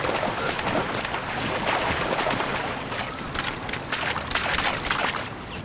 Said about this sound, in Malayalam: നമുക്കൊരു ബോട്ട് കിട്ടി.